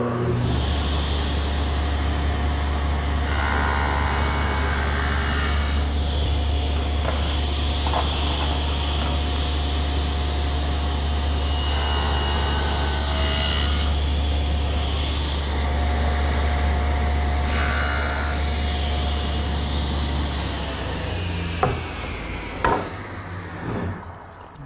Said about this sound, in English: The first thing I want to do is make an 1/8 inch deep shoulder cut on each face.